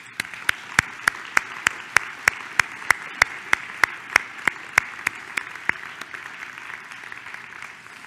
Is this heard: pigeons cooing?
no